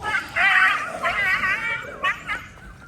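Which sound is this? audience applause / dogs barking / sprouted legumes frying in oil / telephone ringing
dogs barking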